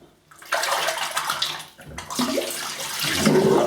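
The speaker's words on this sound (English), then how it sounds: "Just make sure you run the blade under the hot tap" Hot water runs steadily from a tap as a razor blade is rinsed beneath it, a close, continuous splashing gush that starts after a brief pause and swells again after a short dip.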